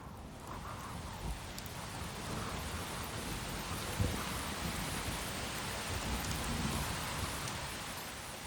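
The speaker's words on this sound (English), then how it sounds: "It rains nearly all the time up here" Heavy tropical rain pours steadily on a rainforest mountain top, a dense continuous hiss of drops with faint low rumbles beneath and no voices.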